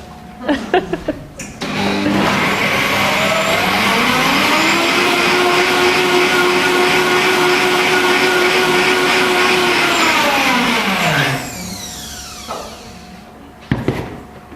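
Blender whirs loudly through kimchi dressing ingredients, spinning up, holding a steady high whine for about ten seconds and then winding down, with clunks before and after.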